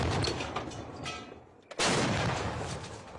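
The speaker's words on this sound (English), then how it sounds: "The army does not sleep either, pounding them with 130 mm artillery shells." Heavy 130 mm artillery shells fired by the Pakistan army in the Waziristan mountains, a loud sustained rumbling barrage that drops briefly to near silence, then a sharp new blast bursts in and rolls on with long reverberating echoes.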